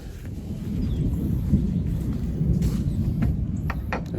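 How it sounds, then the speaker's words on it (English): Low, continuous thunder rumbles in the background outdoors at a bee hive removal job, a steady deep roll with faint crackles and no talking. "hear that thunder rumbling in the background"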